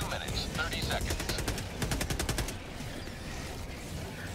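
Rapid bursts of automatic gunfire from the video game Helldivers 2, loud and dense for about two and a half seconds, then easing into a lower rumble of continued combat noise, with a voice speaking over it.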